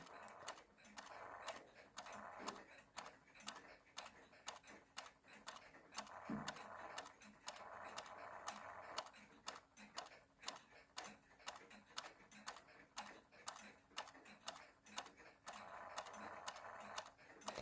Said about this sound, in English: it occasionally makes some whirring noises, which I believe is caused by a worn jewel on the motor arbor